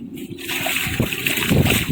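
Close splashing and sloshing water as someone wades in, with a voice murmuring briefly over the churning.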